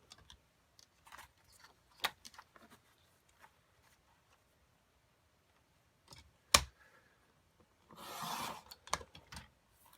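Paper sheets being cut on a paper trimmer for an envelope project: faint scattered taps and handling clicks, then a sharp single snap and a short close rasping slide of the blade through paper near the end.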